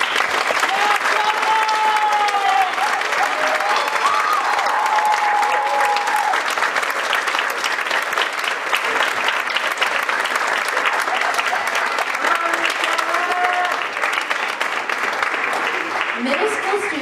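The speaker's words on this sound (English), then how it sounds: "Let's give them a round of applause." Sustained audience applause for middle school students at a school film presentation, dense clapping with faint cheers and voices underneath, steady for the whole stretch.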